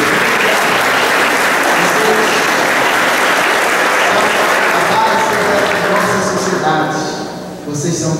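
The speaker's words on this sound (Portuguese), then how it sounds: "Uma salva de palmas para você." A church congregation gives a warm round of applause, dense and loud clapping filling the hall for several seconds, with voices mixing in as it winds down near the end.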